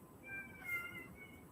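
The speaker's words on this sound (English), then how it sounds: "That was my cat." A house cat meows indoors, a short faint call with a couple of rising tonal notes over a low background hum, no talking.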